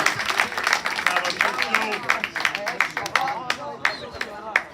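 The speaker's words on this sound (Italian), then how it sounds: "Applausi per Nicetta" Spectators clap and cheer at an under-14 provincial youth football match in Palermo, a steady patter of applause running beneath continuous commentator talk.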